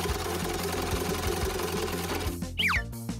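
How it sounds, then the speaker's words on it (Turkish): A sewing machine runs with a steady, rapid mechanical chatter that fills most of the clip, then cuts off near the end as a brief cartoonish whoosh takes over. "Dikiş makinem. Kolay olacak."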